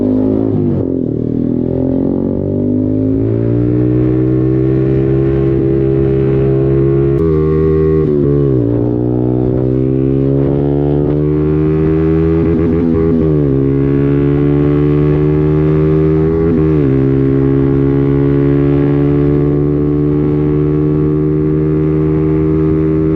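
A Zontes 125 Scrambler motorcycle rides along a ring road, its engine note droning steadily, rising and falling with gear changes and throttle, loud and close with wind rush and no talking.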